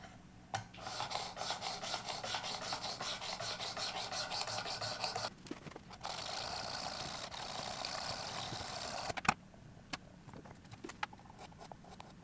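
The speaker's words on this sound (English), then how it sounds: "So I broke out my worksharp precision adjust, which is a fixed angle sharpener" Strokes of a knife against the stone of a Work Sharp Precision Adjust fixed-angle sharpener, a single-bevel blade being honed; steady rasping passes in long runs, pausing briefly, then sparse scrapes and clicks near the end.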